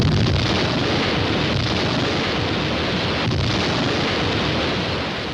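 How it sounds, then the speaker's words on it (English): French atomic bomb test in the Sahara Desert: a continuous heavy roaring rumble, loud and broad, sustained throughout and slowly easing at the end. "France exploded her first atomic bomb"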